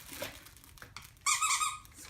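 Squeaky head of a plush fox dog toy from a medium-dog subscription box gives a loud, rapid burst of high squeaks near the end, after quieter rustling and faint background voices.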